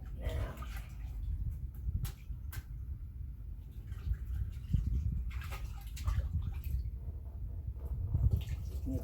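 A paintbrush being rinsed and squeezed in water, soft close sloshing and splashing in uneven bursts with small drips, faint and quiet throughout.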